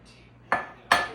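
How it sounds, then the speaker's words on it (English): Two sharp clinks of a utensil striking a metal bowl as dry ingredients for onion ring batter are mixed: flour, baking powder, Italian breadcrumbs, cornmeal and Cajun seasoning. The hits are close, loud and a fraction of a second apart. "mix all your dry ingredients together, not the beer"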